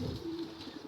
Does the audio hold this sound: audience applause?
no